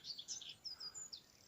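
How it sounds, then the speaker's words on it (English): Several small warblers sing at once in wet scrub, high thin chirps and phrases overlapping in quick bursts against a quiet outdoor background. "3 warblers all together"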